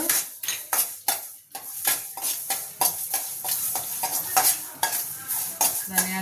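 Coriander seeds sizzle in hot oil while a spoon repeatedly scrapes and stirs the pan in quick, rhythmic strokes.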